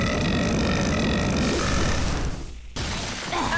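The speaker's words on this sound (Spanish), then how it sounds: "A ese eructo le doy 4 estrellas." A loud, drawn-out cartoon burp in the Ben 10 series, a rough, gravelly belch that rumbles for about two and a half seconds over a busy soundtrack, then breaks off into a short silence.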